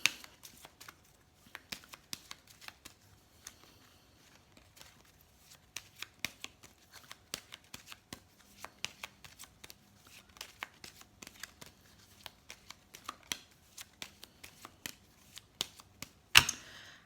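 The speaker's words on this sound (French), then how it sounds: "On pourrait tirer quelques cartes également du Petit Lenormand." Petit Lenormand oracle cards are shuffled by hand in a quiet room, producing soft, irregular riffling flicks and taps in scattered bursts over about seventeen seconds, faint and close, with no speech.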